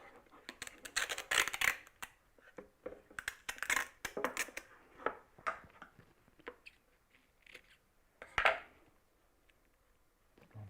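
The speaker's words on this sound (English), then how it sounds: "Bit of tape. Just tape it on there." Adhesive tape pulled and pressed onto a wooden desktop box lid, a series of short crackling rips and pats close by, with quiet pauses between them.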